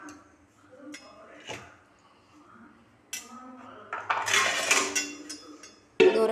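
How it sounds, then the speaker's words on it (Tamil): Metal pot lid clinks and clatters onto a pan of cooking crab fry in a home kitchen, with several sharp knocks and a louder clank at the end, close and clear. "இப்போ மூடி போட்டு ஒரு 10 மினிட்ஸ் வேகட்டும்."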